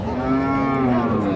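Cattle at a weekly livestock market in Ranigonj, Ghoraghat, Dinajpur, including Sahiwal cows and calves, give a loud, sustained low moo with rich harmonics that holds steady for over a second, close by and clear of talk.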